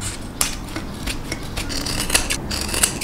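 Scissors snip notches into fabric for sewing, a run of crisp, close metallic cuts repeating irregularly over a few seconds with no talking.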